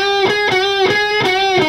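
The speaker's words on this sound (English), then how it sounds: "Very important that you're muting the strings in between those hits." An electric guitar riff played with the strings left ringing between hits, so each repeated chord stab sustains and bleeds into the next, a steady rhythmic pulse of bright, distorted tones with no talking.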